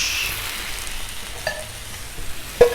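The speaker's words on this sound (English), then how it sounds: "All right, I'm gonna throw a little butter." Potatoes fry in butter on a Blackstone griddle, a soft steady sizzle that starts brighter and settles lower, with a couple of short spatula clinks near the end, close but fairly quiet.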